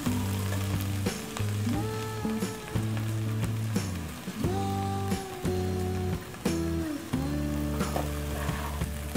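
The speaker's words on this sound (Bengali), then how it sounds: "টমেটো কুচিগুলো আমি আলু গাজরের সাথে মিক্স করে নিচ্ছি।" Chopped tomato stirred into potatoes and carrots frying in a pan for a simple breakfast dish: a steady sizzle with scraping stirs that come and go, over tuneful background music, no voices.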